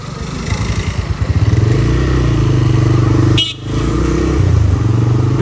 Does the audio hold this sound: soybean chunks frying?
no